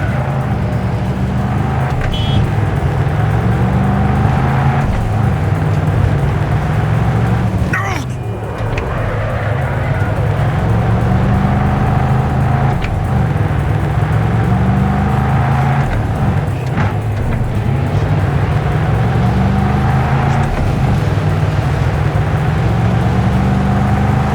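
A car is driven hard in the game Cyberpunk 2077, its engine a loud continuous drone that rises and falls in repeated revving swells, with tense voices talking over it.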